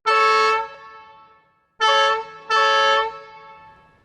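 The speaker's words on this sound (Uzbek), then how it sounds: "Furaning baland va dahshatli signali, tormozning dahshatli chiyillashi va suyaklarning sinishi eshitiladi." A loud truck horn blares in three close, powerful blasts: one long, then a pause, then two more in quick succession, each ringing out and fading.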